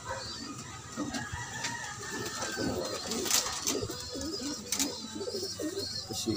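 Pigeons in a loft, soft repeated cooing and low fluttery calls close by, with other bird sounds and faint background noise throughout.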